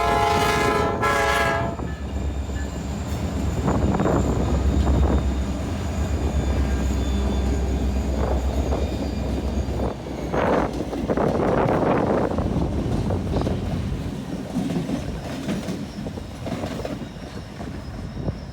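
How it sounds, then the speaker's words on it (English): A BNSF freight consist of seven locomotives is out switching in Aurora, Minnesota: a horn blast opens, then heavy diesel engine rumble, clanking railcars and wheel noise roll on steadily at close range. "there was a 7-engine train in Aurora"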